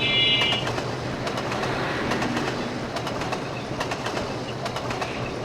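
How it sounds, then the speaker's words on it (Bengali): Sonar Bangla Express, a modern locomotive-hauled train, rolls past in Trainz Simulator with steady rumble and repeated clickety-clack of wheels over rail joints, birds chirping faintly near the start. "আধুনিক লোকোমোটিভ এটা আসছে এখন আমাদের সোনার বাংলা এক্সপ্রেস"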